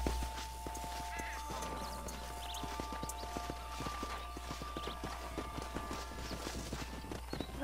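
A horse's hooves clip-clop in a steady walking rhythm while it is ridden in the video game Red Dead Redemption, with quiet sustained music tones behind the even beats.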